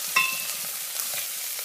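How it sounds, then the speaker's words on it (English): Freshly peeled, grated ginger drops into a hot pan and sizzles and fries, giving a brief burst of crackling, hissing spatter at close range with no voices. "We add a teaspoon of fresh, peeled, and grated ginger"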